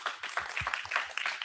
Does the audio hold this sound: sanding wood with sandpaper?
no